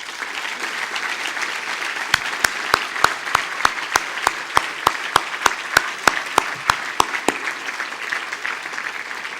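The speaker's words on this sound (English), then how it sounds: "Please join me in a round of applause for these dedicated advocates." A crowd at an awards dinner applauds steadily throughout, a dense wash of clapping with sharp, evenly spaced louder claps standing out in a regular rhythm through the middle.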